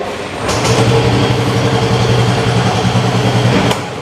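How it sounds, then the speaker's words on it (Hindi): A Yamaha 125cc scooter starts and runs at a steady, close hum for a few seconds before it cuts off abruptly. "चलिए मैं स्कूटर स्टार्ट कर रहा हूँ"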